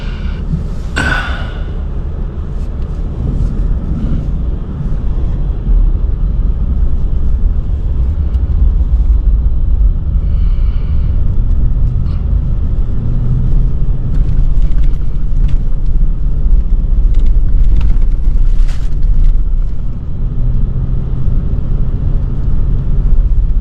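John Deere backhoe engine running steadily in four-wheel drive while plowing snow, a continuous low rumble close by with a few faint clanks and knocks on top.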